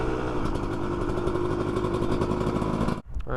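A dirt bike engine drones loudly and steadily while it is ridden in third gear. Near the end it drops sharply for a moment as the clutch is pulled and the bike slows, then it picks back up.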